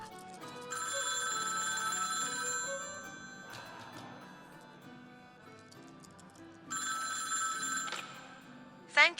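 A phone ringing through the earpiece as someone dials 911 on a flip phone with a new SIM card, a steady electronic ring repeating twice with a quiet gap between, fairly soft.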